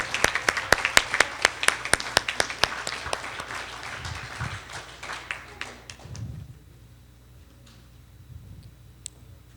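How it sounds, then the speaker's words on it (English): A debate finals audience applauds the head coach of St. Augustine's College. Sharp, rhythmic unison clapping comes first, then it loosens into scattered claps and fades to near quiet by the end. "Give her a round of applause."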